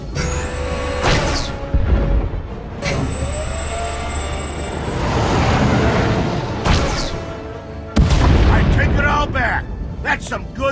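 Starship weapon fire in Star Wars: The Old Republic, heavy booming bursts and a droning rumble with sweeping tonal whines, while voices talk over parts of it.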